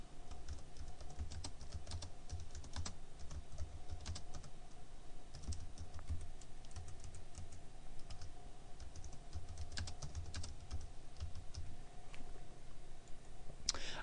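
Steady typing on a computer keyboard while entering text into a Prezi canvas, soft continuous key clatter with brief pauses, quiet and close, no voices.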